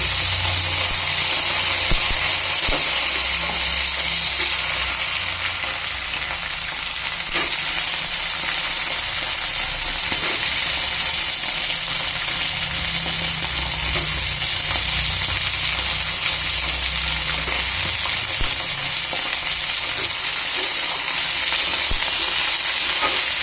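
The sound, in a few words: eggplant frying in oil in a pan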